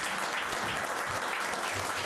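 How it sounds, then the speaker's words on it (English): Applause at a city council meeting, a dense steady clapping from a room of people lasting throughout, fairly close and even in loudness. "let's give them a round of applause"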